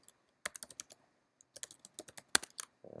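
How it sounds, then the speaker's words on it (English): A password is typed on a computer keyboard. The crisp, close keystrokes come in two quick clusters separated by a brief pause. "And my username and password I'll type in."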